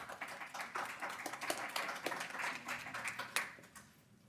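An audience at a City of Kenosha Common Council meeting claps in a steady, moderately quiet patter for about four seconds, then fades out, with no talking over it.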